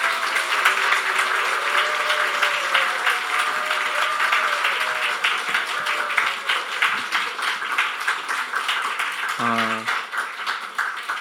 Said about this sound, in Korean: 사랑과 환영과 축복의 박수로 우리 모시도록 하겠습니다